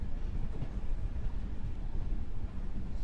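At night, a train rolls into Guntakal junction with a dense, low rumble of wheels and carriages that stays fairly even throughout and has no voices over it.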